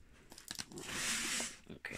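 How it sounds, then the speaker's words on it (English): A package from an anime and Pokémon merchandise order is cut open during an unboxing, giving close, crinkly tearing and crunching of packaging in a sustained burst, moderately quiet, with no talking. "cut it open."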